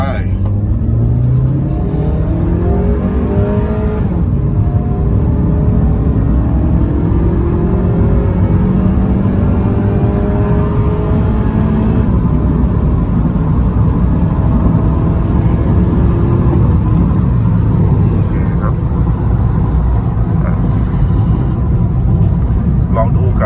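A remapped Honda Civic FD 1.8 running E20 fuel accelerates hard through the gears, its engine note climbing and dropping with each shift over a steady loud rumble, with a voice now and then under the engine.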